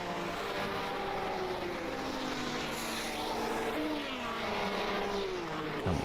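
1967 Formula One cars, a Cooper and a Lotus, racing at Kyalami in a sim racing game, with steady high engine drones that rise and fall in pitch as gears change, one car passing close near the end.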